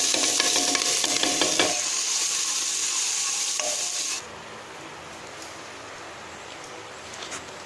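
Loud, steady sizzling of onions and green chilies frying in hot oil tempered with cumin and asafoetida, with scraping stirs, then the crackle drops to a quieter simmer partway through.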